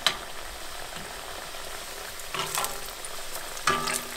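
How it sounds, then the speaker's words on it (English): Seitan steak frying in plenty of oil in a cast iron pan, a steady close sizzle that swells louder around the middle and again near the end as oil is spooned over. "just use a cast iron pan and a lot of oil and just put your seitan steak into the oil"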